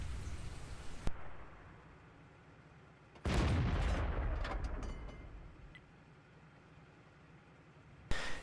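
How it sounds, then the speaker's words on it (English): Heavy tank cannon rounds fire in a video game battle, a sharp report near 1 second, a loud sustained blast rumbling from about 3 to 5 seconds, and another sharp shot at the end over low background noise. "I'm going to lob a couple more rounds that way"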